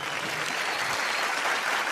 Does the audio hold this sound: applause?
yes